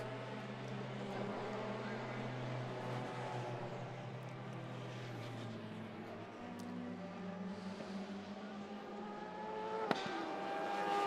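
Race cars on a circuit during a round of a club racing championship, engine drone rising and falling as cars pass at a distance, continuous and moderately faint, with a sharp click near the end.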